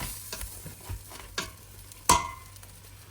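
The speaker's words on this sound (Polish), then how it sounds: "zawartość patelni przekładam do garnka" Food scraped from a frying pan into a pot on a home stove, giving soft scraping and light clinks, then one sharp metallic clank from utensil striking cookware, close and moderately loud.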